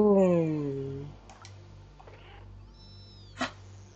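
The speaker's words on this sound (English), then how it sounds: "Oh, he doesn't like my meowing." In the video game Stray, a cat gives one loud, close, drawn-out meow, followed by faint clicks and a short sharp sound.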